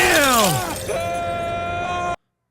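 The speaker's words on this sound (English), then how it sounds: "Oh, shatter it." A TV-show shatter, a sharp breaking crash with a falling whine and ringing tail, loud and close, cut off abruptly after two seconds.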